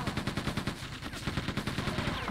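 Machine gun firing in Quake II, a rapid, steady stream of sharp close shots in an even rhythm sustained through the whole burst, loud and alone.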